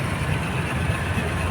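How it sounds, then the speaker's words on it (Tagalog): A second-hand repossessed motorcycle with its stock engine idles close by, a steady low rumble that holds evenly throughout. "mapapakinggan nyo yung tunog ng makina"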